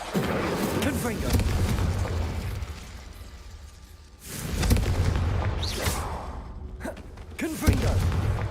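Confringo fire spells burst in Hogwarts Legacy, several fiery blasts spaced a few seconds apart amid loud combat noise, each with a sharp onset and a rumbling tail.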